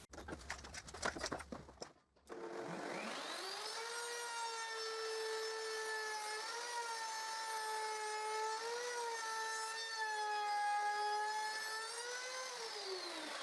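Wood router cutting a groove along wooden planks on a tongue and groove jig, a steady loud whine that spins up after a short scrape and holds an even pitch for about eleven seconds.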